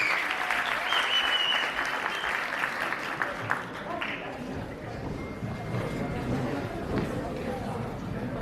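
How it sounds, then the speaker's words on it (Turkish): An audience at a Turkmenistan country showcase in Bursa applauds as a performer is welcomed onstage, a broad clapping wash that thins midway while voices and stage sound rise beneath it. "Aydın Avruzova'yı alkışlarınızla sahnemize çağırıyoruz arkadaşlar."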